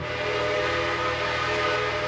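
A sustained, steady B&O 6 train whistle chime from a Trainz video game sounds loud and continuous, a multi-tone blast holding without break.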